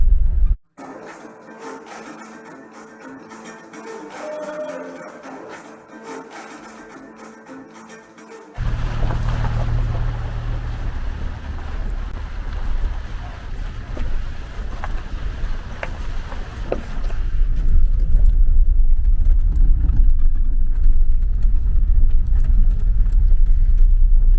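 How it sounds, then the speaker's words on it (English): A car engine labours steadily up the mountain road toward Sarbit Temple on Mount Sarbit, a continuous close rumble of motor and tyres that grows louder and heavier in the final stretch, with no talking. "Driving to Sarbit Temple, climbing Mount Sabrbit with the car."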